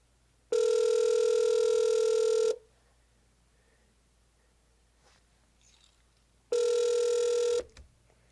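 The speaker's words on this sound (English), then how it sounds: "Okay, he's going to call me." An incoming call rings a telephone twice, each ring a loud steady electronic tone lasting about two seconds, separated by a long quiet gap with faint room noise.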